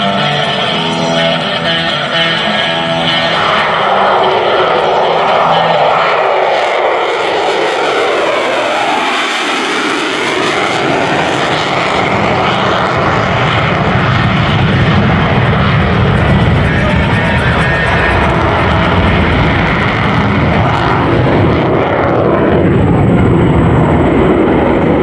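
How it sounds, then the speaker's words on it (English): An F/A-18F Super Hornet makes a low, fast transition pass at an air show, its jet engine roar loud and continuous throughout, building and shifting as the aircraft sweeps past near show center. "the Super Hornet low transition."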